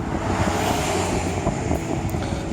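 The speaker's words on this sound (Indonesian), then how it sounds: "Gimana kalau badai pasir kayak begini coba?" Strong sandstorm wind roars steadily and loudly throughout, a dense broadband rush with gusty buffeting and no voices.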